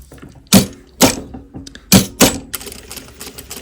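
Sewing machine stitching a fabric pocket, four sharp mechanical bursts of stitching separated by short pauses, then lighter clicking and whirring toward the end, close and clear with no talking.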